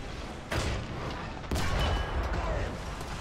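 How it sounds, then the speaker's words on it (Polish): Tank gunfire in the video game War Thunder: two heavy booming shots about a second apart, each trailing into a rumbling, crackling roar. "Bocik mnie ostrzeliwuje."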